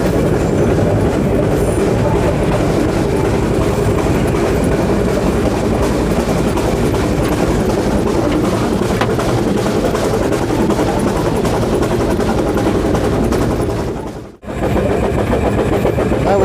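A steam train on the narrow-gauge Vale of Rheidol Railway rumbles and clatters continuously at close range on a tight, climbing curve, wheels rattling along the track, with a brief sudden dropout near the end.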